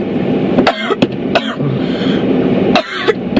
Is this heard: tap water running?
no